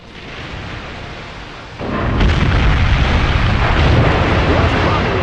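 Bombs and torpedoes explode in the naval combat game Steel Ocean, a dense rumbling roar that jumps louder partway through and holds as a sustained heavy blast wash.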